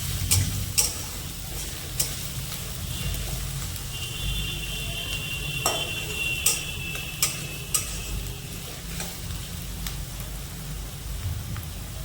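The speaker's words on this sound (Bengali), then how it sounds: "এবার পেঁয়াজ আর লঙ্কাটা তেলের মধ্যে হালকা নাড়াচাড়া করে ভেজে নেবে।" Onions and chillies sizzle steadily in hot oil, with occasional scraping and clinking of stirring throughout; no one speaks.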